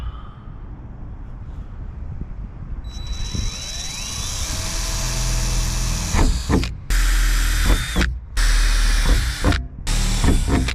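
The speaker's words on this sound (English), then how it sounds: "So those are kind of my pilot drill bits, or pilot holes." A power drill whines up to speed and runs loudly drilling pilot holes for a roof fan in a Mercedes Sprinter van, cutting out and restarting in several short bursts near the end.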